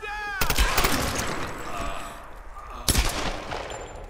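Bursts of video game gunfire from Tomb Raider (2013): a sharp volley of shots near the start, a stretch of rattling fire and echo, then a second loud burst of shots about three seconds in.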